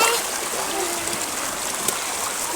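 Rain pours steadily outdoors, a dense, even wash of water with splashing, close and constant throughout, while voices come through faintly now and then.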